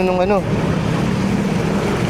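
Floodwater surges in waves, churned up by a bus passing through a flooded road in Balagtas, Bulacan, making a steady loud wash and rumble with wind across the microphone. A short voice is heard at the start.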